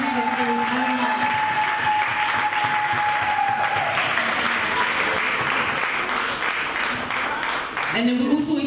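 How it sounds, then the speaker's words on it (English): Church congregation at a Christmas celebration gives steady, sustained applause, a dense continuous roar of hands with voices faintly underneath and speech returning at the end. "give a round of applause to everyone"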